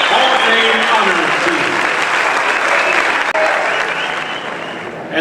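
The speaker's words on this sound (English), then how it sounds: "Let's give a round of applause for the 1991 University of Tulsa football team." Audience gives sustained, dense applause for the 1991 University of Tulsa football team at a Hall of Fame ceremony. The clapping stays loud and steady throughout, then eases slightly toward the end.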